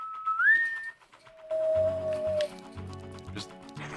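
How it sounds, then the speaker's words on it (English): A person whistles a few short, clear notes, a rising tone and then a longer held note, with soft game sounds and background noise following. "I can whistle."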